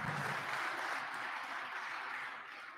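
Legislators and guests in a state House chamber give a sustained round of applause during a floor session, a soft, continuous wash of distant clapping that tapers slightly near the end.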